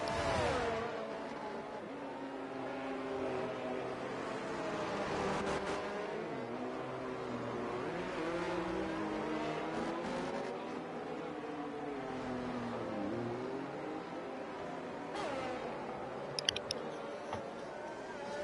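Formula 1 cars in the game F1 22 drive at reduced pace behind a safety car at a British circuit, several engines droning and shifting pitch together in a steady, moderately loud wash with no voices.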